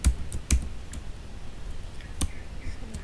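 Sparse keystrokes on a computer keyboard, a few sharp close clicks spaced irregularly over quiet room noise, no speech.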